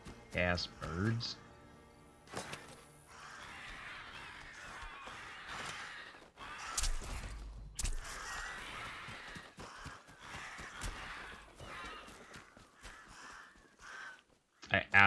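Attacking crows in the video game Atomfall give scattered caws amid fighting sounds and game noise, mid-loud and intermittent, with a person talking throughout.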